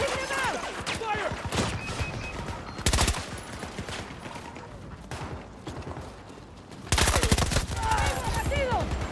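Rapid bursts of video game gunfire crackle loud and close in clustered volleys, with shouting voices over the shooting.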